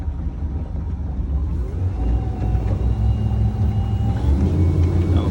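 Engine of a 2021 Supreme S238 surf boat throttling up, a steady low rumble that gradually grows louder and fuller over a few seconds, close and continuous with no talking.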